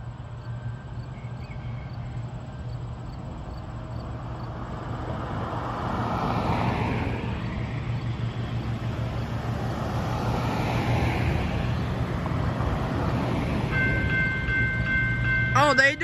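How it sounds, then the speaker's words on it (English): An eastbound Norfolk Southern freight train rumbles past, its heavy low roar swelling as it nears, with a horn sounding faintly in the distance. "here comes the train"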